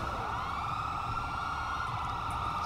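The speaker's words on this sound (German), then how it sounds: "diese ganzen Sirenen hier" Police sirens in GTA V wail steadily and loudly throughout, a continuous overlapping electronic tone with no speech.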